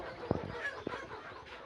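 Layer hens on a poultry farm give a few short, soft clucks close by, two brief calls standing out over quiet background noise.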